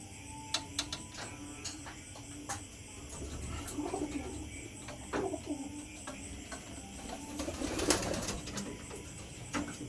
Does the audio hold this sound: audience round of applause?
no